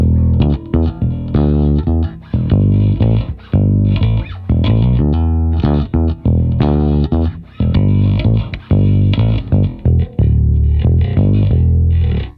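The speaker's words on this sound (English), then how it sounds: "It's just a really nice, rich, warm bass sound." A warm, distorted bass guitar through a tube amp emulation plays a melodic line of sustained notes, rich and full with a slightly gritty overdriven edge, loud and close.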